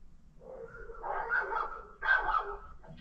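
Dogs bark in short, uneven bursts with yips and whimpering tones, fairly close and moderately loud, with no talk over them.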